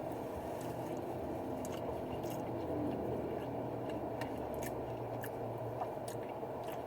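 Soft, close chewing of gas station Spanish rice from Exxon, a faint, steady squishy mastication with occasional light clicks and no talking.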